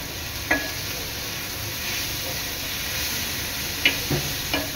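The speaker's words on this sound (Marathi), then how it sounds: "तर टोमॅटो इथे आपला शिजत आलेला आहे" Chopped tomato cooks in a pan for crab burji, a steady soft sizzle with occasional light clinks of a spoon stirring, fairly quiet and close, with no voices.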